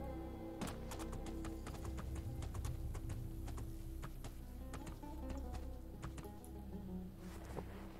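Horse hooves clip-clopping in the video game Two Worlds II, a steady run of sharp, evenly spaced taps over a dense, continuous game music and ambience bed.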